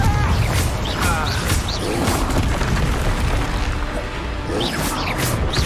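Spell explosions and impacts from the Hogwarts Legacy video game pile up in a dense, continuous barrage of booms, crashes and whooshes, loud throughout with no pause.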